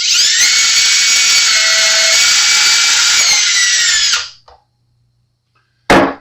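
A loud, high-pitched power drill whines steadily for about four seconds while drilling during a Stratocaster guitar pickup swap, then stops; a brief short burst follows after a pause.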